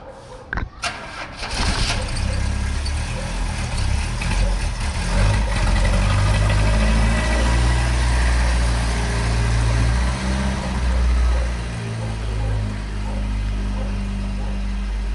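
A Chevette car engine cranks and catches after a brief starter whir, then settles into a steady, loud, low-pitched idle close by, running evenly without talk.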